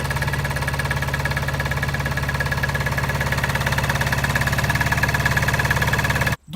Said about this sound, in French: on reconnaît quand même le bon vieux bruit de la sans permis, le tremblement est présent